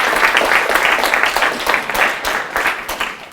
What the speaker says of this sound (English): let's all give Karen a round of applause